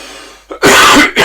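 A close, harsh cough in two quick bursts, the first longer than the second, with a brief quiet gap before them.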